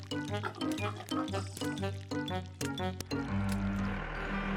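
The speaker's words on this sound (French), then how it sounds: "Les cochons se baignaient dans la boue." Cartoon pigs grunt and oink repeatedly while bathing in mud, amid wet squelching and sloshing, with a steady splashing wash of mud toward the end.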